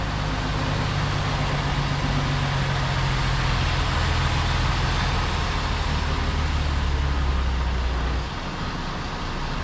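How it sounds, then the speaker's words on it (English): A lorry pulls over to park at the roadside on a narrow lane after a sat nav led it to a dead end; a steady, loud low engine drone runs throughout and eases slightly near the end as it settles. "Now let's go park up to one side so the cars can get past."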